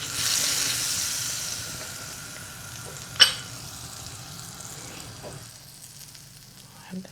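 Homemade rolled flatbread cooks on a hot pan with a soft, steady sizzle that slowly fades, with one sharp click partway through and no clear talk.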